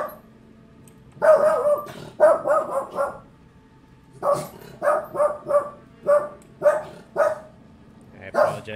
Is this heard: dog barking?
yes